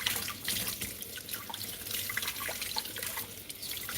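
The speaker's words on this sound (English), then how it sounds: "Just rinse it really well." Steady running water from a tap splashing over a brand-new item being rinsed in a sink, a continuous close hiss with small splashes and drips throughout.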